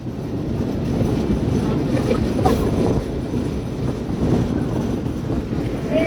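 A mail train rolls into Boalmari Bazar railway station with a steady low rumble and clatter heard from on board, the noise swelling and easing slightly as it goes.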